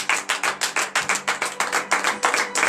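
A church congregation at a Monday morning prayer service in Benin claps in acclamation to God, a steady rhythmic beat of about five claps per second, close and fairly loud, with no talking over it.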